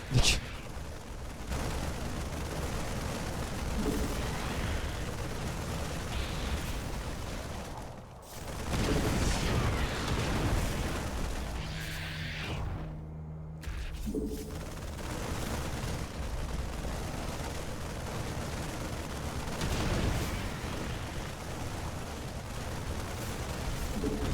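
Dense, continuous gunfire from a team of players shooting raptors while standing in a circle in the video game Zombie World Unity, loud and sustained with brief dips near the middle.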